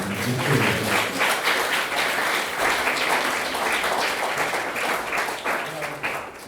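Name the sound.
audience applause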